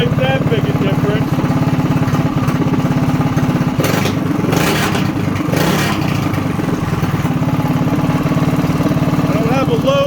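Coleman BT200X minibike engine idling with its cover off, a loud, steady close-up engine drone with constant rumble throughout and a brief clattery flare near the middle.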